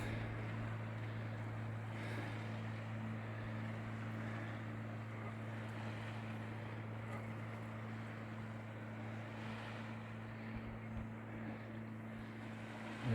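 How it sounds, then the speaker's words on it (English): A boat motor drones steadily out on a lake at Bob's Cove near Queenstown, a constant low hum heard from the shore under light wind, with no talk. "I noticed there's a boat out there as well."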